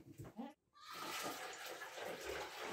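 Excess Star San sanitizer solution poured into a bucket, a steady splashing stream that starts after a short pause and runs for about two seconds, following brief talk.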